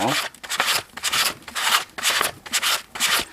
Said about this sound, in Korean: 서로 결합이 돼서 한 몸이 되기 위해서 좀 샌드페이퍼질을 좀 해줘야 됩니다